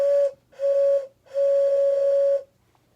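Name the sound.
Thomas & Friends toy train whistle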